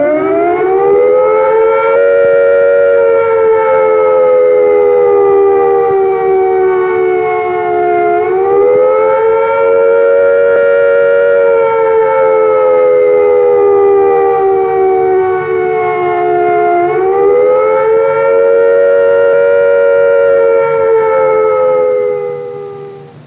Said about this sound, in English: Here is a reminder of what the air attack warning sounds like.